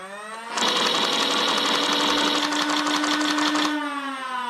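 A Nerf LMTD Aliens M41-A Pulse Blaster's small electric pusher motor whirs steadily for about three seconds with a rapid mechanical clatter, then winds down; close and fairly loud, no talking.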